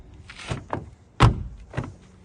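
A 2020 Ford Fusion Hybrid car door shuts with one solid, close thunk, with quieter handling clunks before it and a softer knock afterward.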